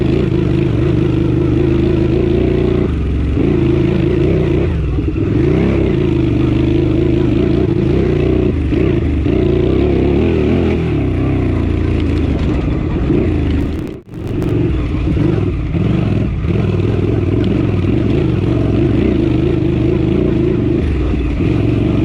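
A Honda CX500 motorcycle engine on a harescramble course holds low revs with a loud, steady, close drone, dipping briefly about two-thirds of the way through.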